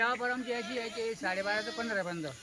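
Kathiawari goats bleating at a livestock market, several wavering, close calls overlapping in quick succession with no talk.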